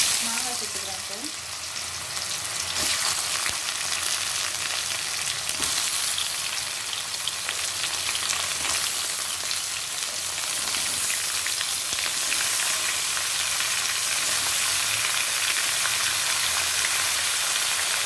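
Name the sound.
mango frying in pan with curry leaves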